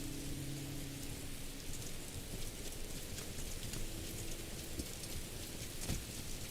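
Steady rainfall in the Morrowind game world, a dense continuous patter with occasional low rumbles, filling the scene evenly from start to finish with no voices.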